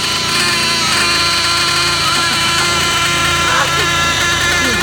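A new Novarossi R.28-7M nitro RC motor runs during break-in, giving a loud, close, continuous high-pitched buzzing drone that holds steady throughout with no pauses.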